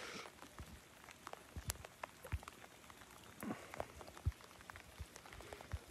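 Steady rain falls outdoors around a playful dog, a soft continuous patter with scattered sharper drips and taps, fairly quiet and even throughout, with no voices.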